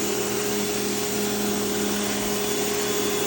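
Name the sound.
Westinghouse ePX3500 electric pressure washer running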